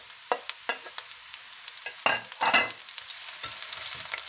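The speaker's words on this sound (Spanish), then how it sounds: "salteamos los champiñones" Mushrooms sautéing in oil over fairly high heat, a light steady sizzle with a few sharp scrapes and stirring knocks, one louder burst of frying midway, close and without voices.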